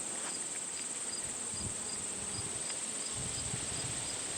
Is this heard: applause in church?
no